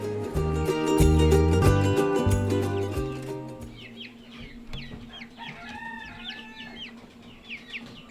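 Chickens in a backyard farm brooder cluck and chirp, starting under a loud burst of music that cuts off, after which the small birds' calls carry on thinly and close by.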